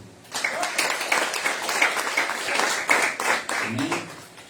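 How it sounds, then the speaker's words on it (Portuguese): A church congregation breaks into sustained applause during a service, clapping steadily for several seconds with voices mixed in. "E a igreja aplauda ao Senhor."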